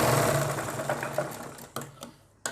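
A sewing machine stitches a strip onto a palazzo, a short steady whir that fades into a few quick separate bursts and stops, with no talking.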